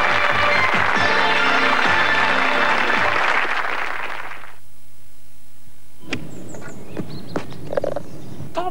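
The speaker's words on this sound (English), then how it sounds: "Give them a round of applause, folks, will you?" Studio audience applause on a 3-2-1 Christmas special game show, a dense, loud burst of clapping that fills the first four and a half seconds and then cuts off abruptly, followed by quieter scattered sounds.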